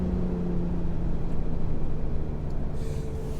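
A Stage 3 760HP Toyota Supra engine drones as a steady low rumble from inside the car, holding a fairly even level with no clear rise in revs and no one speaking.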